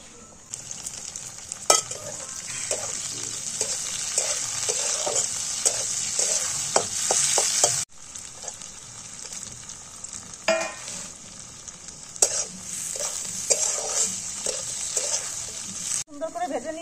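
Cashews and raisins are fried with beans in a pan while being stirred, giving a steady hiss of sizzling broken by sharp scrapes and clacks of the spoon, with two brief pauses.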